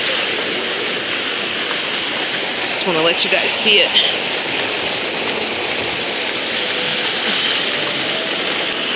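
Rushing water from a waterfall at a nighttime Chinese lantern festival, a steady broadband roar close by, with a person speaking briefly over it partway through.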